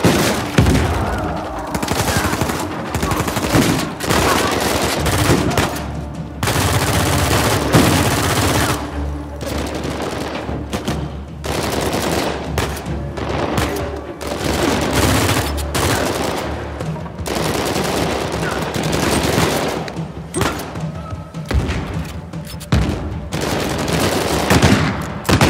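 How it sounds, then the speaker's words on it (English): Sustained blind fire from the video game Uncharted 4: loud bursts of rapid automatic gunshots with brief pauses between volleys, heavy booms mixed in, over roughly twenty-five seconds. "I'll blind fire a little bit."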